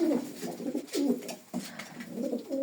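Pigeons coo in a steady series of soft, throaty, rolling calls close by, each lasting about a second, with no talking.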